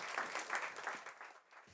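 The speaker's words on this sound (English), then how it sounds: "Please, a round of applause for the Global Health Ambassador." Audience applause at a World Health Assembly side event, steady clapping at moderate, fairly faint level that thins out toward the end.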